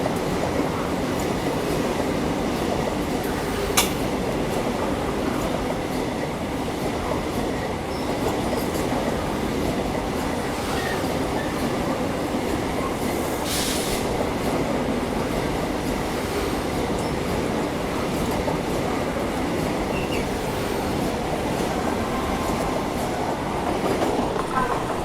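A Vande Bharat Express train overtakes alongside, heard from inside a moving train: a steady loud rumble and rhythmic wheel clatter throughout, with an occasional sharp click or squeal.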